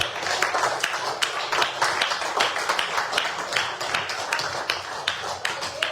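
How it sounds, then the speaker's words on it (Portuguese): A church congregation claps together during a worship service, a dense, steady patter of many hands ringing out loudly throughout. "As palmas para o Senhor Jesus"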